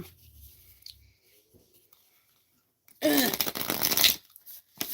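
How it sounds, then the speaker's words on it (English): A stiff new deck of playing cards gets one loud, close riffle shuffle lasting about a second after a quiet stretch, followed by a brief rustle. "These are stiff, like a little stiff. You gotta really, really shuffle them"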